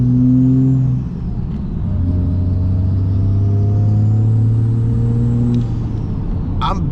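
A 700 hp big-turbo Cummins diesel in a second-generation truck drives under light throttle, its low engine drone steady and loud throughout, with a brief whoosh of air near the end.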